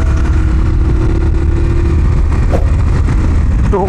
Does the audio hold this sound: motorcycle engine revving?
yes